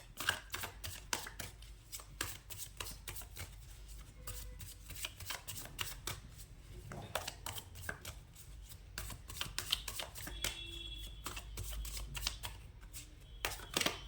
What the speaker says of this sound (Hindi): यहाँ पे कार्ड्स शफल हो रहे हैं।